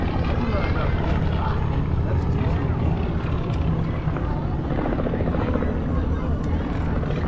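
A Yak aerobatic plane's loud, droning radial engine rumbles continuously nearby at an air show, a deep throaty roar with shifting pitch as it passes.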